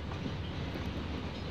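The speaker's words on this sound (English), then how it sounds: "I'm doing my best to stop this train." A train in the Trainz A New Era simulator game slows under braking with a steady low rumble and wheel noise, continuous and moderately loud, and a faint high squeal comes through partway, with no voices.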